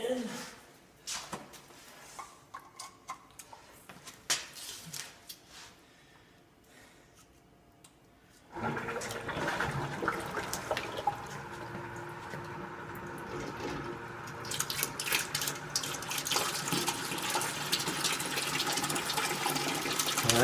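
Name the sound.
pump recirculating vinegar water through tankless water heater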